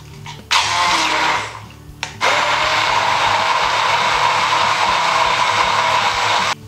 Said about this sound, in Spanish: Y trituramos